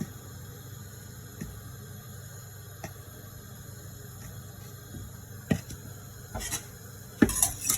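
A spoon stirs sugar into milk in a cooking pot, making sparse faint clinks and scrapes over a low steady hum, with a few louder metallic knocks near the end.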